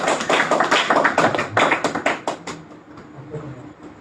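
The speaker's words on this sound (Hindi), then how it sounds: "अरे हमारा ड्राइंग के लिए ताली वाली बजाओ" A small audience in a spiritual lecture hall claps for a drawing, a quick burst of scattered hand claps that peaks early and then tapers into a few sparse, fading claps and quiet room tone.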